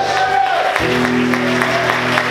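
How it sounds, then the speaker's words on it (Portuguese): A church congregation at a morning worship service claps steadily while sustained musical tones hold underneath, with speech mixed in. "Você pode aplaudir e exaltar ao Senhor essa manhã"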